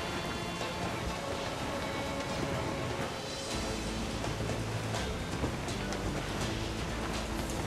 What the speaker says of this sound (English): the waves really change the direction, don't they?